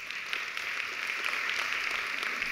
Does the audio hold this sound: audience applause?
yes